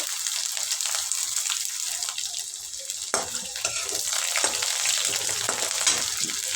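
Onion and garlic sizzle and crackle with spluttering cumin seeds in a hot pan, a constant bright frying hiss with a sudden louder burst midway.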